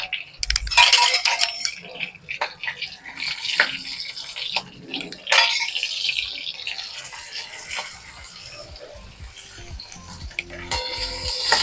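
Cumin, broken chillies and shredded cabbage go into a hot oiled pan for cabbage chutney, with bursts of sizzling and clattering spoon-on-metal stirring, close and loud.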